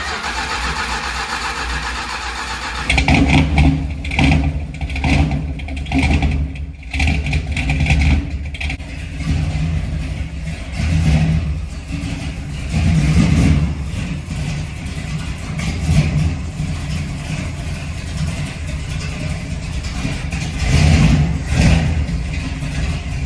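A 1972 Dodge Challenger engine cranks and catches after a few seconds of quiet, then runs with a rough idle and repeated revs rising and falling, loud and close.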